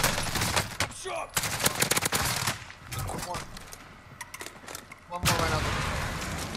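Rapid automatic gunfire from a shooter video game, with bursts of loud, dense shots and a few scattered single cracks close up, running almost continuously through the clip.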